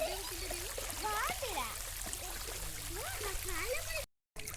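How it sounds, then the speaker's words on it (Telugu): Water flows over the overflow weir of a village tank, a constant broad rushing wash with voices talking loudly over it throughout. "ఇక్కడ అలుగు వస్తుంది."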